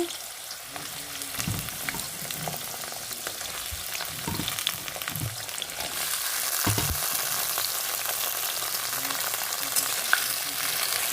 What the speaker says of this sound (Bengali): এটা একটু আমি ভেজে নেব সামান্য একটু ভেজে নেব